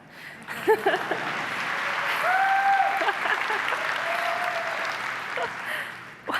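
Keynote audience at Apple's WWDC 2019 developer conference applauds in a broad, steady wash of clapping that swells and then holds, with faint tonal stage sounds running underneath.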